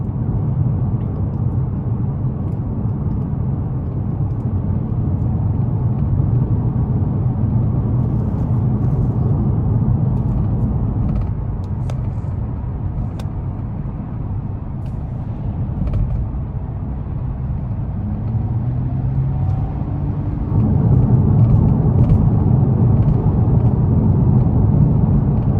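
A 2021 Nissan Maxima SR with a 3.5 V6 cruising on a bumpy back road at night, heard from inside as a steady low engine and road rumble that swells slightly near the end, with no talk.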